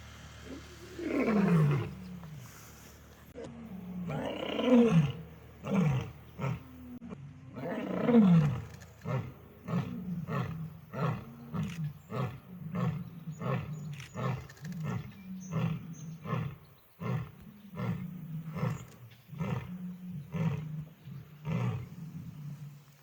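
A lion roars nearby at a wildcat sanctuary, a few long moaning roars followed by a rhythmic series of short, deep grunting huffs that gradually trail off.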